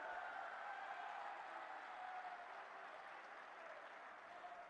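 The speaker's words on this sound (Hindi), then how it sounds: "जोरदार तालियों से अपने प्रिय नेता का स्वागत करिए" A large crowd at a Lok Sabha election rally in Sonipat, Haryana applauds to welcome PM Narendra Modi: sustained, even clapping heard from a distance, fairly faint and slowly easing off.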